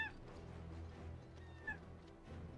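A cat meows faintly twice, once at the very start and again about a second and a half later, against a quiet background.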